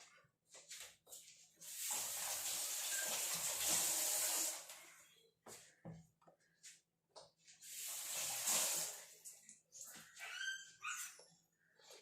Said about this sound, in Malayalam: ഈ തക്കാളിക്ക് നമുക്ക് കഴുകിയെടുത്തിട്ട് അരിഞ്ഞ് ചേർക്കാം